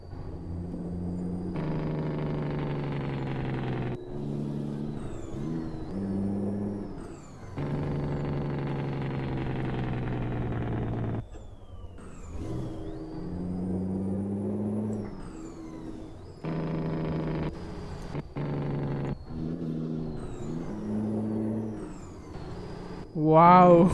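A Kenworth T800 truck in American Truck Simulator runs in ninth gear on a difficult highway. Its engine drones steadily, then dips and rises again through repeated shifts and revs, with a brief air hiss near the end.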